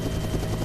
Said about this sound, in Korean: 더욱이 헬기 소음 때문에 의사소통도 어렵다.